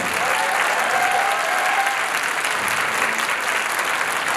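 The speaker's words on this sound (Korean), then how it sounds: "다시 한번 뜨거운 박수 부탁드리겠습니다." Loud, sustained applause from a crowd at a school entrance ceremony after a student performance, dense and continuous with a few faint voices mixed in.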